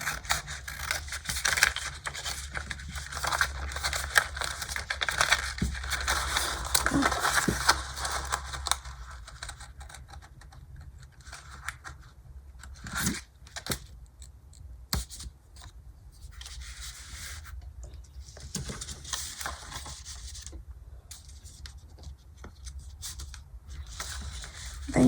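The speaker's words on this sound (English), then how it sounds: "Now you're gonna get your scissors and cut everything in the diagonal" Scissors cut paper diagonally, giving a run of soft rustling, sliding snips up close that thin into sparse, quieter cuts and paper handling later on.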